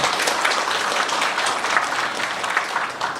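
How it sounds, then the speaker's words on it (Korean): Dense, close applause fills the whole stretch as a hall full of people at a county town-hall talk event claps enthusiastically, with no pause or talking over it. "진짜 박수 한번 주시기 바랍니다"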